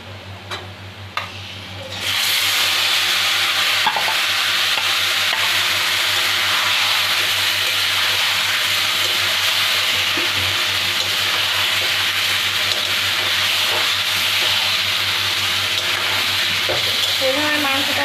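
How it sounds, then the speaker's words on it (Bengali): Mutton pieces dropped onto reddish fried onions in hot oil, sizzling loudly and steadily after a quieter start, with stirring scrapes throughout. "মাংসটা দিয়ে দেব।"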